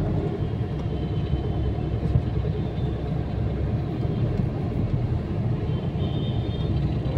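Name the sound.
heavy road traffic jam heard from inside a car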